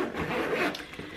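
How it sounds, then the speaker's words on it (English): The zipper on the wipe pouch of a newborn's diaper bag is pulled open in one short, close, raspy run. "There's a zipper here"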